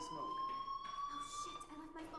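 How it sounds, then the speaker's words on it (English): A fire alarm sounds as a faint, steady electronic tone that holds a constant pitch for the whole moment, low in level and somewhat muffled in the background. "do you hear that fire alarm?"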